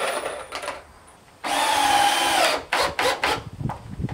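Power drill drives screws into a rough-sawn wood post for an outdoor kitchen build: one sustained whirring burst of about a second, then several short close bursts as the screw seats.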